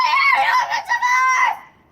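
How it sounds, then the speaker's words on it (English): A child screams loudly and shrilly in a long, wavering cry with a brief break, outdoors on New Year's Eve during fireworks. "Why are you screaming?"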